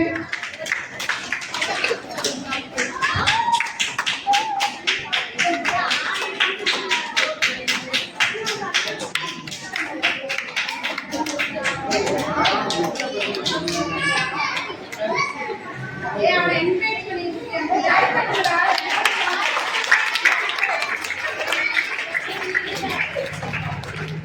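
Children at a church vacation Bible school in India clap in quick, uneven bursts, with lively chatter and kids' voices running underneath throughout.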